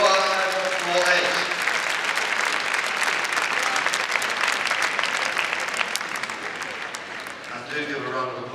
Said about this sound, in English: do give a round of applause for all of our awesome contributors